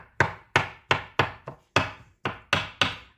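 A knife chopping mushrooms on a cutting board, about ten sharp, evenly spaced knocks close up, clear and alone without talk.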